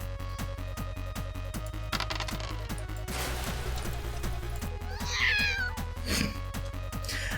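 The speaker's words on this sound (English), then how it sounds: "The cat meows." A cat meows in the You're A Dad game, a few drawn-out mews rising over a steady looping musical backdrop with rhythmic plucked notes.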